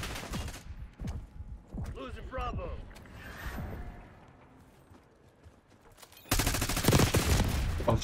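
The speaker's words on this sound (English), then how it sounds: "Shooting him in the leg." Gunfire crackles in a multiplayer shooter game, with scattered shots and bursts, a quieter stretch, then a loud dense volley near the end, and a voice talking over it.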